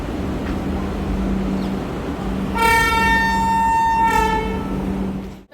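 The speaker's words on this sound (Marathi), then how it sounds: "आता इथे पंचवीस मिनटं आमची ट्रेन थांबणार आहे" A passenger train on the Delhi–Dehradun route at a station platform, with a steady engine rumble and a loud sustained horn blast sounding twice, heard close and alone without talk.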